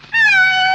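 A single loud, close cat meow, clear and tonal, drawn out for most of a second with a slight downward bend at the end.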